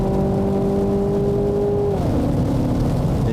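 Mazda 6 GT car accelerating, its steady engine tone dropping in pitch partway through as a gear shift goes in, heard up close and loud with no talk.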